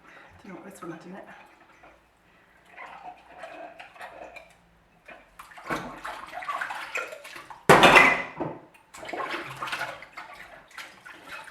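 Dishes are washed by hand in a sink of water with ENJO cleaning products: intermittent sloshing, splashing and clinking close by, with a louder burst of running water midway and talk over the top.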